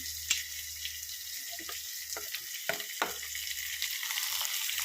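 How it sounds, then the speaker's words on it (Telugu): Tempering for gongura dal crackling in hot oil, a sharp sizzle broken by quick clustered pops and spoon scrapes, close up and without speech. "తాలింపు అయితే కాలుతుంది"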